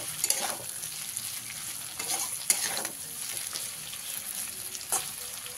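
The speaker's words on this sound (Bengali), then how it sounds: "আলুটা ভালো করে ভাজা হয়ে গেছে।" Potatoes fry in a pan with a constant moderate sizzle, broken by a few scraping stirs and taps of a spatula, with no voices.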